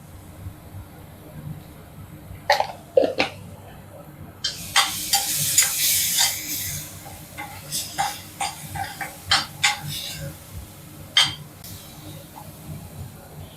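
Vegetables sauté in a pan for a plantain fry, giving a steady sizzle with bursts of louder hissing and sharp stirring scrapes near the middle and end, fairly close and without talk.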